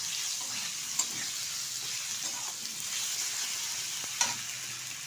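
Potatoes, tomatoes and cumin powder sizzle and fry steadily in a pan while being stirred, a constant bright hiss with a couple of soft scraping knocks from the spoon.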